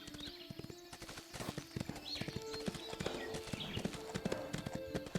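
Horse hooves clatter in a steady galloping clip-clop rhythm in a horse-riding video game, moderately loud and close, with faint game sounds around them and no talking.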